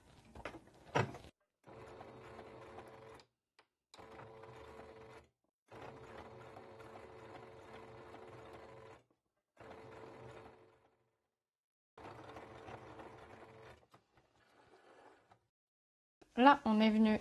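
Sewing machine stitching bias binding, short bursts of quiet mechanical whirring separated by pauses, with a louder clatter near the start and end and soft speech between runs.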